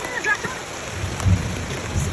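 Heavy rain pouring down in a steady hiss, with faint low rumbles and scattered louder drops and bumps, under a softly talking voice.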